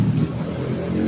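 A motorcycle passes close by on a busy road near a construction area, giving a steady loud engine rumble for about a second with no pause.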